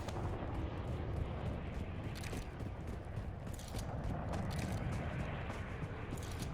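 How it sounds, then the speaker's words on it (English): Smoke screen artillery bombardment in a video game, heard as a continuous, dense rumble of distant explosions with scattered sharper blasts rising out of it throughout. "Friendly smoke screen bombardment incoming."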